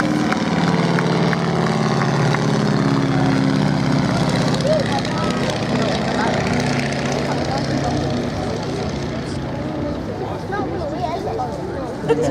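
A vintage Boeing Stearman biplane's radial engine drones through a slow display pass at an air show, a steady engine roar under continuous announcer commentary over the PA.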